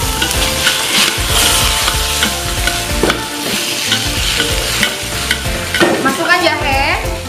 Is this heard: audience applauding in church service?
no